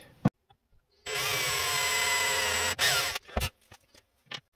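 A hand-held drill with a 13 to 14 mm bit bores holes into a target rifle stock for cheek piece riser hardware: one steady whirring burst of about two seconds, close and fairly quiet, with brief knocks and handling noises around it.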